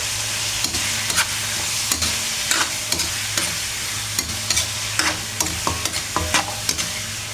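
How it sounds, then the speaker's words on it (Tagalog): Salted meat sizzles steadily in a hot pan while a utensil stirs it, scraping and clinking in an irregular rhythm, close and loud, with no talking. "hayaan natin maluto itong karne"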